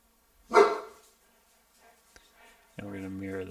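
A dog barks once, loud and close, then falls quiet, and a person's voice starts speaking near the end.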